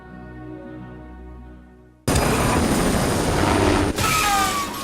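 After a soft musical passage, a loud, dense helicopter roar cuts in abruptly and continues close and steady, with a brief dip partway through, during a scene from the 1978 film Superman.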